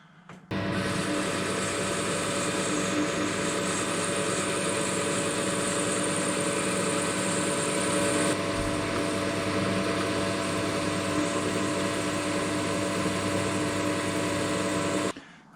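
Continuous steady machining of metal as a lathe cuts a 12 mm wide recess into a cylinder flange for the Lynx15 engine build, a loud constant whirring drone with a faint tool hiss, running alone for about fourteen seconds.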